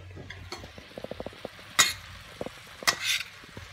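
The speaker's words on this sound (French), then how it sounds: "on va mélanger toute la mixture" A tuna mixture is stirred in a pan, with a run of light, quick scrapes and taps followed by a couple of sharper metallic clinks of the utensil against the pan.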